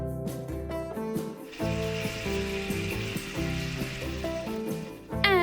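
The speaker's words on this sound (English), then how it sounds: "Back to my pan, after the powdered spices, in goes the almond paste and the garlic paste." Almond paste and garlic paste sizzle and fry with powdered spices in a pan for a chicken gravy, a steady hiss running beneath background music throughout.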